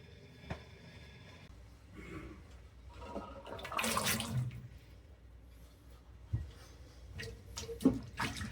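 Blanched broccoli is carried to a kitchen sink and dropped into cold water, giving a brief watery splash and swish amid quieter handling clatter, close by and moderately loud.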